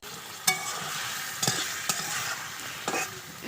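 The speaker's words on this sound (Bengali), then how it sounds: "মা তাকে ভাজি করে নিচ্ছে" A pan of food being fried on a stove over low heat gives a steady close sizzle, with a few sharp stirring knocks and scrapes every second or so.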